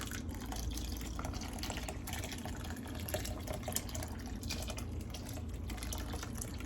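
Water pours steadily into a basin for soaking a wig before bleaching, a continuous splashing fill with a low rushing body, close and alone without talk.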